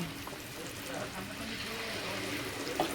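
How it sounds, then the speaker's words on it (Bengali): Gobindobhog rice pitha frying in hot oil makes a soft, steady crackling hiss at low volume, with a person talking over it. "তেলে ভাজা পিঠে আপনারা দেখছেন গোবিন্দভোগ চালের তেলে ভাজা পিঠে"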